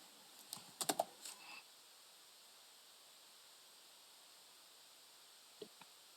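Keys tapped on a computer keyboard while entering a month name into Excel cells: a quick cluster of soft clicks near the start, then a long quiet stretch and two faint isolated taps at the end, close and alone.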